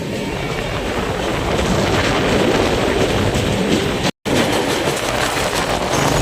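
Brahmaputra Mail express train running through the countryside, a loud, steady roar of wheels on rails with rhythmic clickety-clack, heard alone without talk and broken by a brief dropout near the end.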